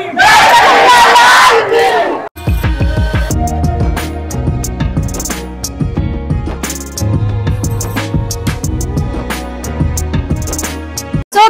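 A large, dense crowd at the ISKCON temple in Patna celebrates Janmashtami 2023, with loud, roaring crowd noise for about two seconds before rhythmic festival music with drums takes over.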